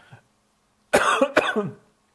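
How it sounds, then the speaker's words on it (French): Two or three harsh, close coughs in quick succession after a brief quiet moment, with a faint murmur just before. "Ah, ça me fait tousser"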